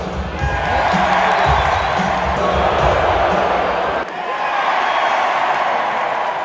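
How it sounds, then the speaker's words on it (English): Hockey arena crowd at a Detroit Red Wings game, a dense sustained roar of cheering and booing mixed together, loud and continuous throughout with a brief dip before swelling again. "The Red Wings, of course, do that boo versus cheer thing."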